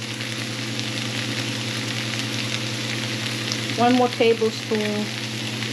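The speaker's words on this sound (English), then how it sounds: "Okay, our onion have caramelized." Onions and oil sizzle steadily in a frying pan on the stove, a loud continuous crackle that runs throughout, with a voice speaking briefly near the end.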